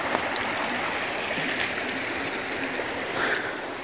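Cold stream water flowing steadily during a motorcycle trip, a broad continuous rushing wash with a few brief brighter splashes, close and fairly loud with no talking.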